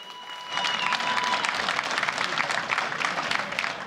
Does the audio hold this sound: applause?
yes